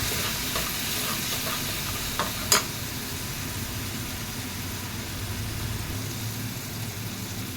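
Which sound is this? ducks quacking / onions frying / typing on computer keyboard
onions frying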